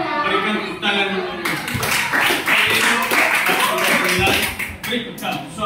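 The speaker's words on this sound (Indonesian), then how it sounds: "Berikan tepuk tangan dulu." Schoolchildren clap their hands together in a classroom, a run of sharp, rhythmic claps mixed with children's voices.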